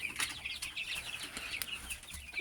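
A flock of 23-day-old chickens in a poultry shed keeps up a busy chorus of repeated high peeps and clucks, close and fairly loud, with brief flutters and no talk.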